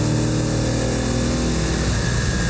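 A vintage Fiat Dino Spider's six-cylinder engine is pushed harder on the road, producing a loud, continuous, dense roar with heavy wind and road rush and no clear separate revs.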